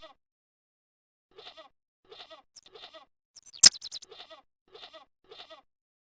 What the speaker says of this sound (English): The rope by which the goat was tethered had become tangled on the old plowshare.